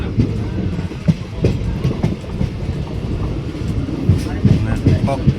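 A train stands held at Chital railway station, a steady low rumble with faint clanks and rattles from the carriages, while people talk nearby.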